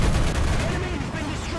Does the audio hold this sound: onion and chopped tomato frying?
no